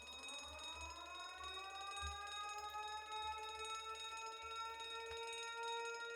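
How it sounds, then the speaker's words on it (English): A steady electronic alarm tone from the video game The Great Ace Attorney rings continuously with layered rising pitches, accompanied by low rhythmic thumps underneath, no voices present. "That sounds like an alarm."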